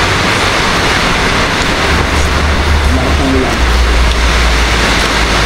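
Heavy rain falls in a steady, dense roar that fills the whole clip at a constant loud level, with no voices heard.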